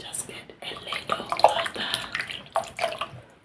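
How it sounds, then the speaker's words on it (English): Water poured and splashed during a spa-style facial cleansing, with clustered wet trickles and splashes close to the mic across the clip, alongside soft handling sounds. "Add more water."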